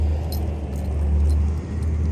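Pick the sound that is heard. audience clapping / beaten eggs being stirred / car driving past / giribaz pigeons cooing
car driving past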